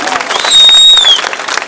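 A crowd at an outdoor political rally claps in a short, dense burst of loud, close applause with a whistle riding over it, cut off almost as soon as it swells.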